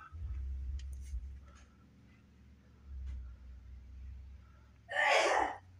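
A single sharp sneeze bursts out near the end, loud and close, after a quiet stretch with a low background rumble.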